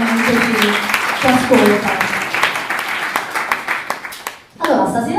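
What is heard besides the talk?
audience applause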